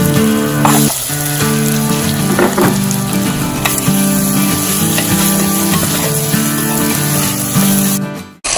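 Marinated chicken added to a pan of sautéed onion and tomato for Malvani chicken curry, frying with a loud, continuous close sizzle and occasional stirring scrapes, then cutting off abruptly near the end.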